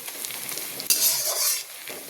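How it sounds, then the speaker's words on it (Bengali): Onion sizzles in a hot frying pan, with a brief louder burst of stirring and crackle midway through a short, close stretch. "এখানে দেখো হচ্ছে পেঁয়াজটা ভাজা চলছে"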